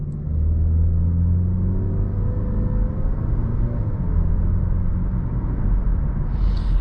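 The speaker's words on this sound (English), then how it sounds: "It accelerates a lot like the last generation Mazda 3." A 2020 Mazda 3 Premium with a 6-speed pulls ahead under acceleration, its steady engine drone and road rumble filling the cabin at a constant, fairly loud level from start to finish.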